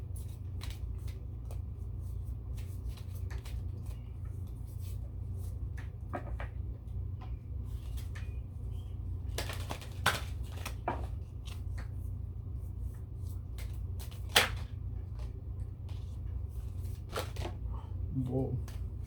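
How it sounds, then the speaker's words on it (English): Keepers of the Light oracle cards being shuffled, soft riffling and card slaps scattered over a steady low hum, with a few sharper taps standing out. "let's go on to the Keepers of the Light Oracle cards"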